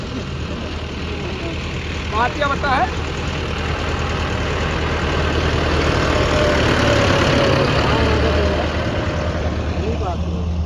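A steady low tractor engine drone runs throughout on a farm field, close and continuous, with someone speaking briefly over it.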